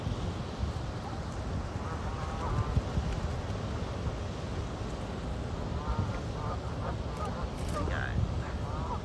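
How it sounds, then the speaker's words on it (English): A female duck, either a shoveler or a wood duck, gives faint, scattered honking calls outdoors over a steady hiss of background ambience. "We got Mama Duck right there."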